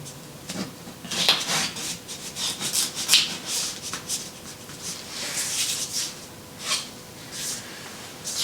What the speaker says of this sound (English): Take my putty knife,